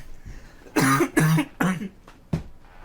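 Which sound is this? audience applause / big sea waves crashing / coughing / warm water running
coughing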